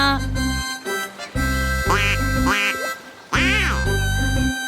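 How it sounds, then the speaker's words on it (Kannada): A cartoon mallard duck in a children's nature-walk story quacks in several loud, bright bursts over backing music. "ಚೂಚು ಮತ್ತೆ ಅಮ್ಮ ಮಲಾಡ್ ಡಕ್ನ ನೋಡಿ ಖುಷಿ ಪಟ್ರು"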